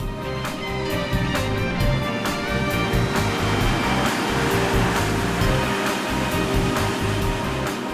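Heavy storm seas pound a wrecked cargo ship with flooded holds, a loud, continuous roar of crashing surf and rushing water with repeated sharp impacts throughout.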